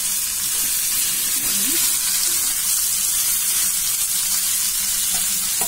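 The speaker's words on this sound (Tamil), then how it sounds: "வெங்காயம் வதங்கணும்" Onions sautéing in oil for a tea-shop style onion samosa filling give a loud, continuous sizzle with stirring noises mixed in, close and unbroken, with no one talking.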